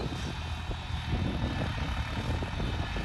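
A New Holland tractor engine runs steadily in a field during maize sowing, a continuous low rumble with rough mechanical texture at moderate volume and no voices.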